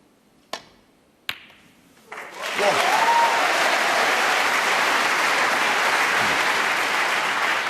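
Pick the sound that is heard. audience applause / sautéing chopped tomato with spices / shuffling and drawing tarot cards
audience applause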